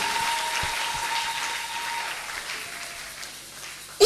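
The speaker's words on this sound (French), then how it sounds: "Est-ce que tu peux acclamer très fort?" A church congregation applauds, first as a faint, diffuse clapping in the background, then as a sudden loud burst of applause and cheering right at the end.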